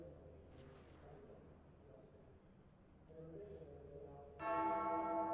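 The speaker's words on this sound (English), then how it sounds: "you hear it, those familiar bells ringing in the background" Bell tones ring out over a steady background din, growing louder and fuller toward the end, with faint voices mixed in.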